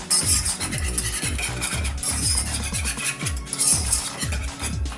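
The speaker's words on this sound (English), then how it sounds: "you want to stir this consistently, because we want to create a paste" A whisk beats tangzhong flour paste in a pot, producing a steady, rhythmic scraping stroke roughly twice a second, close and continuous, with a wet rasp as the lumps break up.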